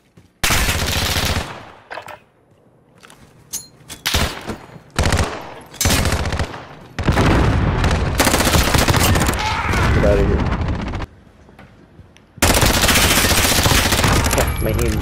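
Gunfire in Call of Duty Modern Warfare: loud bursts of automatic fire and single shots in close-range exchanges, with brief lulls between volleys and a player's voice faintly under the action.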